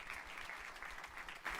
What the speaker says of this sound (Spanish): Denle un fuerte aplauso al Rey de la Gloria conmigo.